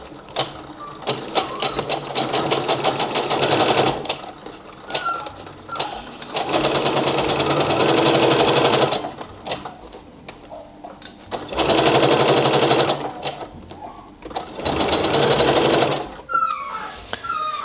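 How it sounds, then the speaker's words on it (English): A sewing machine runs a normal-length straight stitch along the shoulder seams of a shirred top, sounding in several loud, steady bursts of rapid whirring with short pauses between them. "now I'm just going with a normal stitch length, everything normal, 1 centimeter seam allowance, and stitch over the two shoulders"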